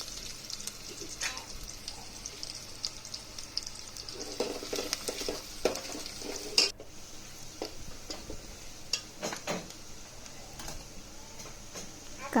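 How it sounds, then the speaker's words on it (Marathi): Sliced onion frying in oil in a pan, a low continuous sizzle with scattered crackles and occasional stirring scrapes, fairly quiet and steady throughout. "कांद्याला जोपर्यंत लालसर रंग येत नाही तोपर्यंत कांदा तेलामध्ये परतून घ्यायचा"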